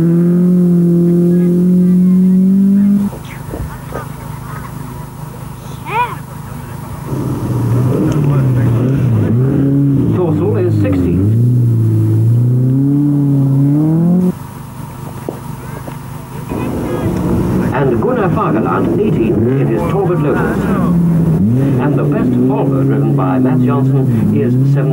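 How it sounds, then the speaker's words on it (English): Swedish car-boats racing on a frozen lake during the 1981 Swedish Rally. Loud engines rev and shift pitch with wind buffeting the microphone, and a commentator talks over much of it. "Swedish Carbark races were also in action on the lake."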